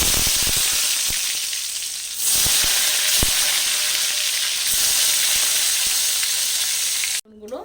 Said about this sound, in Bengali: দুবারে বেগুনগুলোকে ভেজে দিচ্ছি